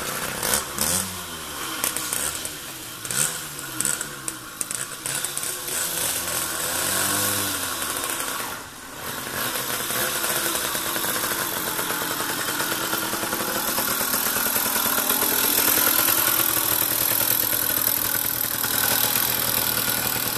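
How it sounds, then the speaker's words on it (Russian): A Riga 13 moped engine putters close by, its pitch wavering and rising through the first seconds before it settles into a steady, buzzing idle. "Денис поможет завести, потому что педального узла нету"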